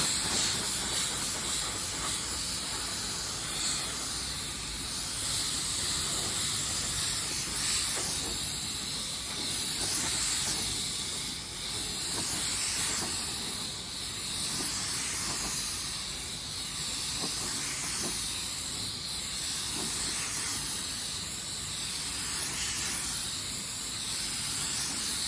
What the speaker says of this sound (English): Now let's clear a panel and see how it looks.